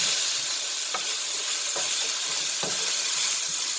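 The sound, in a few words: Mongolian pork stir-frying with cherry wine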